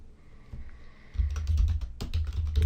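Rapid clicking of keys on a computer keyboard while text is entered in Adobe Illustrator, close and moderately loud, arriving in short bursts of several keystrokes with brief pauses between them.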